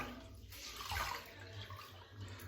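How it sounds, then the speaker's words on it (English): Hot water runs from a tap during a straight razor shave, a soft, steady rush of flowing water, faint and close, with no talk over it. "I'm going to run some more hot water here."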